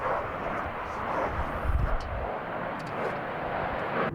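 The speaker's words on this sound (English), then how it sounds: "I'm so glad y'all can hear me over the fucking jets flying over" Jet aircraft fly overhead, a loud, continuous broadband roar that stays steady throughout and swells briefly near the middle, with no talk.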